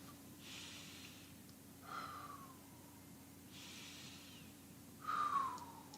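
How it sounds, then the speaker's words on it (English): A person breathes slowly in through the nose and out through the mouth, two quiet inhale-exhale cycles with soft airy sniffs and faint whistling exhales, close and alone without speech. "breathe in your nose and out your mouth"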